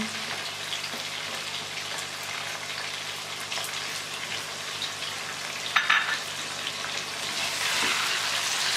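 Tomato paste sizzles in a karahi of chicken for Afghani chicken karahi, a close, steady hiss with light stirring scrapes and a brief clatter midway, swelling louder toward the end.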